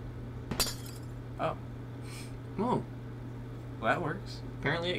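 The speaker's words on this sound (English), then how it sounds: "Apparently it can break glass." Glass breaks in the horror video game Garten of BanBan with one sharp, bright crack near the start, followed by a few short, fainter tonal game sounds over a steady low hum.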